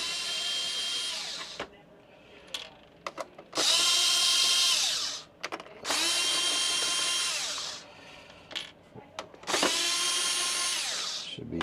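A power driver whirs in three long bursts while backing T15 screws out of an instrument cluster from a 2007 Ford F150, loud and close, with short clicks and handling noises between runs.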